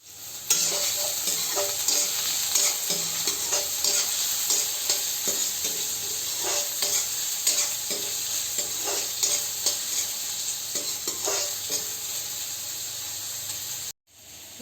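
Onions frying in a pan for katla fish curry, a constant bright sizzling hiss with frequent stirring scrapes, loud and close, cutting out abruptly near the end.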